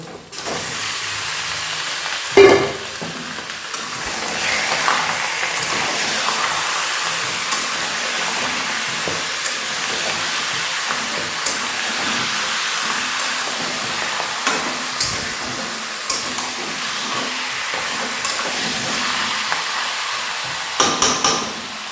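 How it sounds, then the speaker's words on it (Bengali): Mutton added to lightly fried onions and frying in a pan for Bihari-style mutton, a steady close hiss and sizzle with scattered knocks and scrapes of a spoon, one sharp clatter early on. "দেখো পেঁয়াজটা হালকা ভেজে নিয়েছি সুন্দর স্মেল বেরোচ্ছে এবার আমি এর মধ্যে মাটনটাকে অ্যাড করে দেবো"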